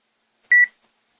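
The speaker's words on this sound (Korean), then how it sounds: "여기는 벨소리가 삐 소리 나네요" A single short electronic beep sounds from a multimeter's continuity buzzer while testing a relay on a treadmill inverter controller board, clean and isolated in an otherwise quiet setting.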